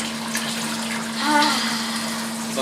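Hot water gushes steadily from a hose during a Kolsch beer brew, a continuous rushing flow with a faint tonal hum beneath and a brief swell midway.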